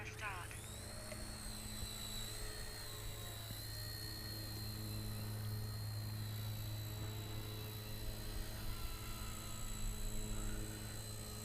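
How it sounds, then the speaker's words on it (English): A tiny nano RC helicopter flying outdoors, its small rotor and motor giving a steady high whine with a low hum underneath, held constant throughout. "I've got my little nano helicopter."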